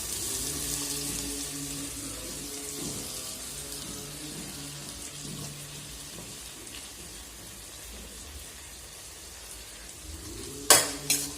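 Brinjal pieces sauté in hot oil with softened tomato, giving a steady close sizzle with stirring scrapes throughout and a sharp clatter near the end; no one speaks.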